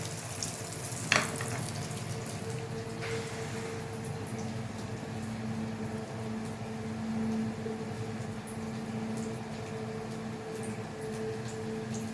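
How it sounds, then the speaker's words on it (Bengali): Breaded chicken spring rolls frying in a wok, a soft steady bubbling hiss throughout with a faint tonal hum and a single sharp clink early on. "ভাজার জন্য কড়াই দিয়ে দিলাম"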